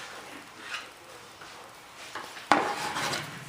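A tool scrapes excess resin off a fiberglassed RC airplane in a series of soft, uneven scratches and rubs, with a sharper, louder scrape near the end; close and quiet, no talking.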